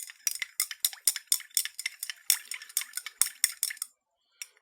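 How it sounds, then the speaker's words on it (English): A metal spatula scrapes and taps rapidly against glassware while adding copper sulfate to a solution: a quick, rhythmic run of light clinks and rattles, close and fairly quiet, ending with a short pause and one last tap. "I'm going to add an extra spatula of copper sulfate"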